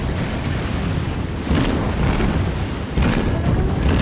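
Heavy naval guns of the battleship South Carolina fire in World of Warships, loud booming blasts over a dense rumbling battle bed, with the strongest reports landing around the middle and near the end.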